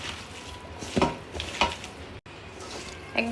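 Potatoes being mixed by hand with soybean oil and cumin in a bowl for a mola fish dish, giving soft, wet squelching and stirring sounds in a few short bursts, near and alone with no talking.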